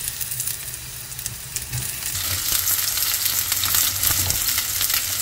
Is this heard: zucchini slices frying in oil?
yes